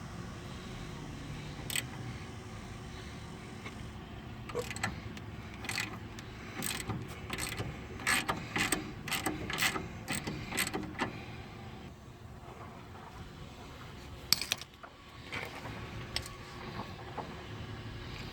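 A ratchet wrench loosens an 11/16 castle nut on a Chevy, clicking in quick close bursts separated by pauses.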